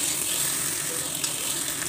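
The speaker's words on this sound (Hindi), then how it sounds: "अब हम इसे ब्राउन कर लेंगे प्याज को" Onions fry in hot oil until brown, producing a steady, close, bright sizzle throughout with faint stirring and no talking.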